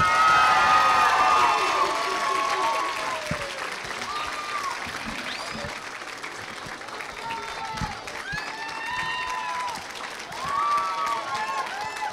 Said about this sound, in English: let's give him a big round of applause, Mr. Evan Longoria